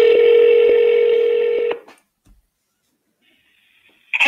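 Outgoing call tones from a phone while testing a GoHighLevel AI voice agent: a steady dial-tone-like hum with faint periodic clicks for under two seconds, then quiet, a faint tone, and a sudden burst at the end.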